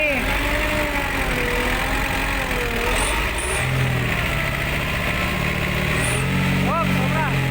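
A truck engine runs at low RPM on a rural farm road, a constant, close, even drone that holds steady throughout, with a voice talking over it.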